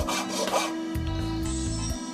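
Rasping strokes of coarse and fine files shaping a brass ring on a Sardinian leppa knife, a steady grinding scrape up close with a low repeated tone, no voices.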